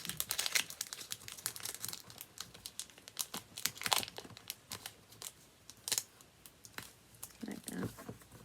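Sticky pad label being folded over by hand, giving soft crinkling and papery crackles in scattered bursts, close and fairly quiet, with brief faint speech.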